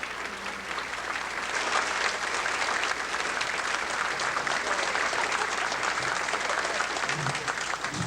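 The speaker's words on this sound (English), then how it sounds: "they're going to clap while you find your seats" A crowd at a 90th birthday celebration claps steadily as guests make their way to their seats, a sustained, even wash of applause heard from within the room.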